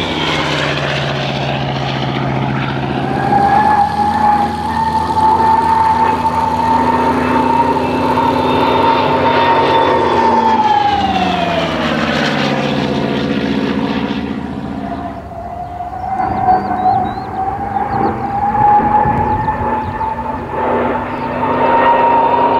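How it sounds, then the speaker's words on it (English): A CAC-19 Boomerang, an original airworthy WW2 fighter built by the Commonwealth Aircraft Corporation, drones past with a loud, steady propeller engine note. The pitch sags midway, then the engine settles into a sustained, near hum. "by Lynette Sokoli of Toowoomba, Queensland, this is the only original airworthy example from the 250 aircraft that were built by the Commonwealth Aircraft Corporation"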